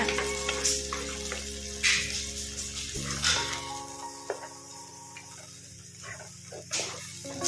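Tomato puree made from four or five blended tomatoes is poured into a pan and sautéed with curry leaf powder for a curry leaf and garlic gravy, giving a steady close sizzle and frying hiss with occasional stirring scrapes and no talk.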